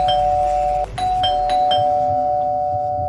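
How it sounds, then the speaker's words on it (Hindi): A doorbell rings with a sustained electronic chime tone, sounding a few quick repeated ding notes over a steady hum, close by. "तभी दोबारा से डोरबेल बजी"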